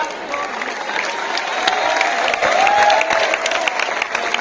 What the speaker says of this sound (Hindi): जोरदार तालियां बजाएं बेटा।